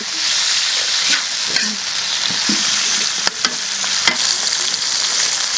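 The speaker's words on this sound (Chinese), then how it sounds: "花椒，好，这个给它炒香。" Sichuan peppercorns and spices are stir-fried in hot oil, giving a loud, close sizzle broken by scraping strokes of a spatula against the wok, with no voices.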